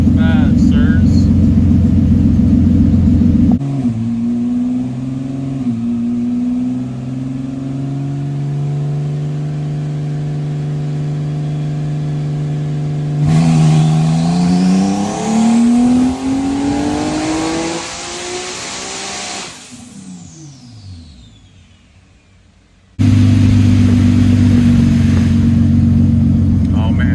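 A Nissan R35 GT-R tuned on ECUTEK at around 1500 wheel horsepower revs hard on a dyno, its engine note climbing in pitch, dropping away, then roaring back loudly near the end.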